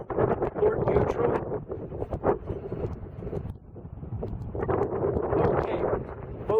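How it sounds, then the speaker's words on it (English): Wind buffets the microphone aboard a twin-engine boat maneuvering at a dock in Georgetown, South Carolina, loud and gusty throughout with rumbling bursts and no clear speech. "the wind's picking up"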